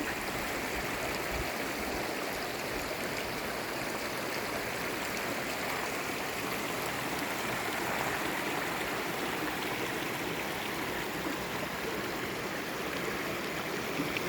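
Guyot Creek, a small mountain creek on the Pacific Crest Trail, flows close by with a steady, continuous rushing and burbling that stays even throughout.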